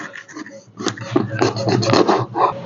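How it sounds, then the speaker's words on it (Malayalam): A kitchen knife chops a fish into pieces, the tail included, producing a run of close, scraping and thudding cuts against a board that grow denser and louder partway through. "വാലും കൂടി നമുക്ക് കട്ട് ചെയ്തെടുക്കാം."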